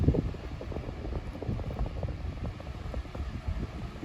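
A 1996 Super 12-inch desk fan fitted with new blades runs steadily nearby, giving a low, rumbling whoosh of moving air with buffeting flutter, even and continuous.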